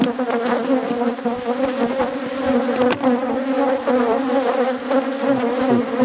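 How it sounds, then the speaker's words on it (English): Honey bees at a hive swarm close around the microphone, their dense buzzing drone loud and continuous, with individual bees whirring past at varying pitch. "there's a lot of bees on the mic"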